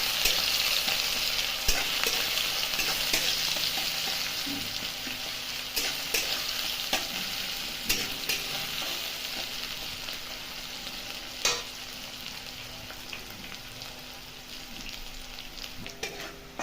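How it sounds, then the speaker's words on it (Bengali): Chopped onions frying in hot oil in a pan for prawn masala, a steady close sizzle broken by frequent clicks and scrapes of stirring, no voices. "তেল থেকে দিয়ে দেবো এখানে কুচো রাখা পেঁয়াজ। এবার এখানে ভেজে নেব।"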